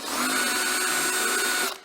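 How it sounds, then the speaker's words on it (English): A power drill bores a 5/16-inch hole in the bottom of a homemade wasp and yellow jacket trap. A loud, steady, high motor whine runs close up, then cuts off abruptly near the end, with no talking. "we're going to start off by drilling a 5/16 inch hole in the middle of the bottom of your"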